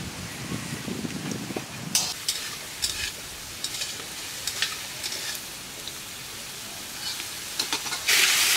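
Potatoes fry in oil in a pan with ground onion, ginger, turmeric, chilli and cumin paste in a village kitchen. A continuous sizzle runs throughout, broken by repeated stirring scrapes and a louder hiss burst at the end.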